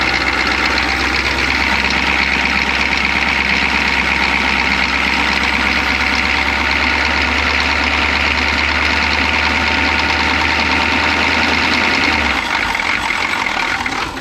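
A 1983 Chevy G20 van's 6.2L Detroit Diesel with a timing issue runs steadily and loudly with its accelerator held down, a dense clattering drone that drops off near the end as the throttle is released.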